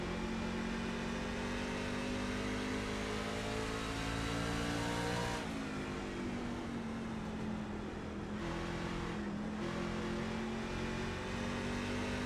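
Racing trucks in a video game truck series race at Richmond Raceway, their engines droning loud and steady with pitch rising and falling through gear changes and lifts off the throttle, with no talk over it.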